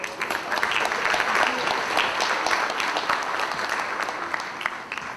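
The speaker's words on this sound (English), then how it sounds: "Let's give a round of applause to the new couple." Wedding reception guests applaud the newly married couple, a dense, steady round of clapping from a room full of people that carries on evenly throughout before easing slightly at the end.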